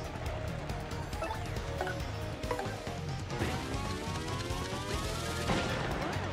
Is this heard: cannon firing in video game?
yes